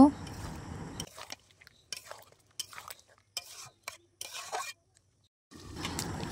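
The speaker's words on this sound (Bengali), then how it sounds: "সামান্য একটু জল দিয়ে ভালো করে আর একটু কষিয়ে নেব" Chicken curry being stirred and sautéed in a pan with a splash of water, giving intermittent scraping and clinking strokes in short bursts with gaps, louder sizzle at the start and end, and a voice talking in between.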